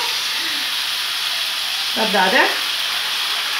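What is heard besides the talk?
spaghetti frying and sizzling in oil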